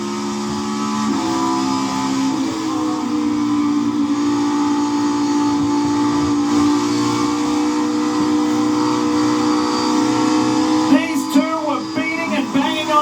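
NASCAR Cup stock cars racing at Darlington in the Southern 500 roar steadily at high speed with a sustained engine drone throughout, the pitch rising and shifting near the end as cars pass, under commentary.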